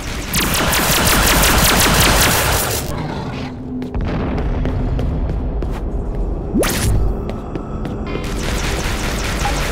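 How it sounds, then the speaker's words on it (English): Rapid, dense energy-weapon gunfire and booming blasts from the Star Trek 2013 video game, aboard a Gorn mothership, roar continuously and loudly, with whooshing bursts and brief lulls between volleys. "Mr. Spock, sometimes it's more fun just to shoot things."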